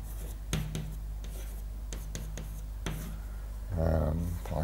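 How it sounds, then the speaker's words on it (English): Chalk taps and scrapes against a board as a lecturer writes out a formula, scattered sharp strokes over a low room hum, with a short burst of voice near the end. "I'll just write it down."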